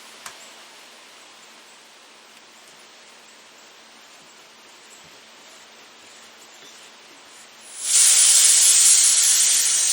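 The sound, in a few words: CO2 cartridge adapter hissing gas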